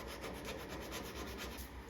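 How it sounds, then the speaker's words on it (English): Bondo filler on a Subaru WRX car roof being sanded with 80-grit sandpaper, a close, steady, rhythmic rubbing rasp with no voices. "Sand it back down with 80."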